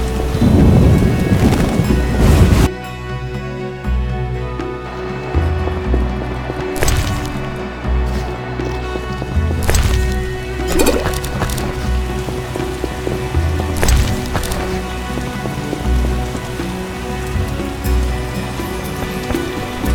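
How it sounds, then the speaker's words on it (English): A thunderstorm in The Witcher, with heavy rain hissing steadily on surfaces and several loud thunder cracks and rumbles, plus a low musical drone underneath. "We're in for a deluge."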